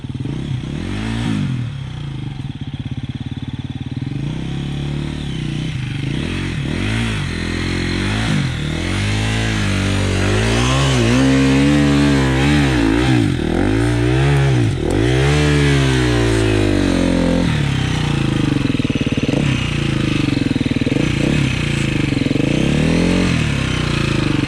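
A KTM 350 EXC-F dirt bike engine revs hard and repeatedly while climbing over rock, rising and falling in rapid bursts with clattering and scraping, loud and close throughout.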